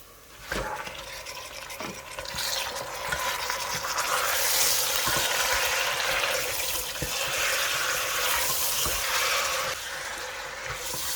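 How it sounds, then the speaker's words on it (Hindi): Chicken sizzling in a pan of browned onions for a chicken and okra curry, a steady broadband frying hiss that holds moderately loud and close throughout with no talking. "चिकन को तब तक फ्राई करूँगी जब तक इसका कलर चेंज हो जाए"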